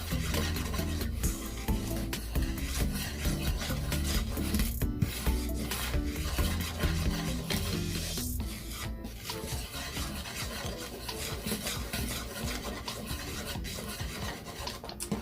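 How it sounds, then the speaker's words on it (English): Steady, continuous scraping and rubbing of a whisk mixing flour, salt and sugar in a bowl, fairly loud and close, running unbroken with no speech. "you're going to mix this really good in here with the whisk"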